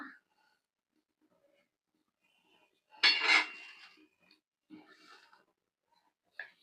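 A lid is set on a cooking pot of shing fish and potato curry, giving one sharp metallic clatter in a quiet kitchen, followed by a few faint knocks and a soft clink.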